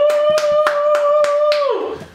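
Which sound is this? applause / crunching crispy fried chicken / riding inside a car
applause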